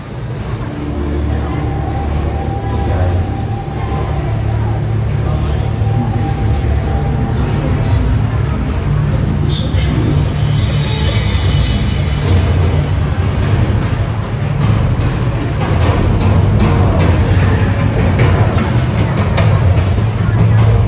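Steady low rumble and rattling of a Universal Studios Los Angeles tour tram rolling along its track, with squeaks and clatter rising over the constant drone.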